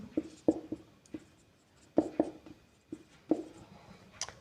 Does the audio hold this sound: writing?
yes